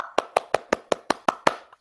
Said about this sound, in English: Stacy, little applause.